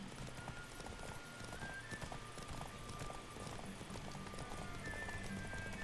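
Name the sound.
horse galloping in a video game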